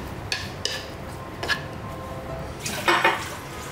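King oyster mushrooms are tossed with seasoning in a hot pan. A utensil clinks and scrapes against the pan in a few separate knocks, with a louder clatter near the end, all fairly quiet and without talk.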